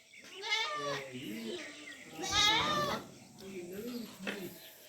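Goats at a roadside hotel farm in Talagang bleat repeatedly in wavering, nasal calls, several close and fairly loud, with people talking in between.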